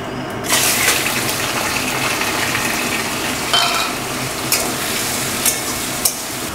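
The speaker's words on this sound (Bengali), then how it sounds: "এই চিংড়ি মাছটা আমি এই তেলের মধ্যে দিয়ে দিচ্ছি।" Peeled shrimp are dropped into hot oil and burst into a loud, dense sizzle that holds steady, with a few clinks of a utensil near the end.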